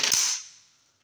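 An AK-47 (56 model) rifle test-fired with only a primer and no powder gives one sharp, close crack that rings and fades away over about a second, with no talking.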